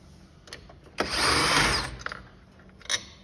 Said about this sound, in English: You take the four bolts that hold it to the wood off,